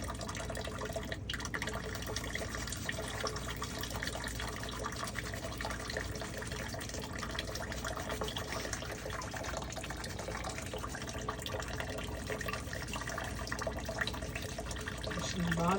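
Tap water running steadily into a sink while dentures are rinsed, a close, continuous splashing stream with no pauses.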